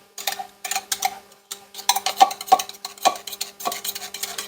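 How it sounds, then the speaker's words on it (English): Ingredients are stirred together in a pot, giving a run of close, irregular scraping and knocking strokes, loud and quick, with no one talking. "Mix it together well."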